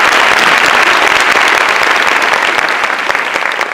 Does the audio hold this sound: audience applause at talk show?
yes